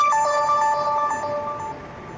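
A mobile phone in a classroom in Cambodia plays an electronic notification tone: a steady, bright chime with a couple of short pitch steps, clear and alone without talk.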